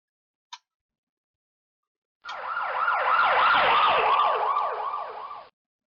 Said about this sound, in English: as that sound of the ambulance siren recording was playing, that it got higher pitched and then it got lower pitched